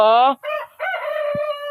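An ayam kampung (village chicken) rooster crows loud and close in a single full crow with a brief break in the middle.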